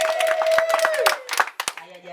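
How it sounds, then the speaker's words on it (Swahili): Crowd clapping and high warbling ululation at a birthday celebration for Ma Geogina Kokutenda, with a steady run of hand claps and a sustained trilling voice that bends downward midway, followed by scattered claps and voices. "Makofi na vigelegele kwa Bwana."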